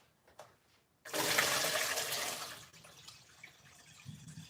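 Produce from a farmers market being rinsed, with water suddenly gushing on after a second of quiet, pouring steadily and fairly loudly, then easing to a softer flow.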